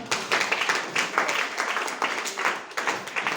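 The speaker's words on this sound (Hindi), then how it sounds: "जोरदार तालियां।" Loud, thunderous applause from a crowd at a marketing seminar, dense rhythmic clapping with repeated surging bursts, close and continuous with no speech.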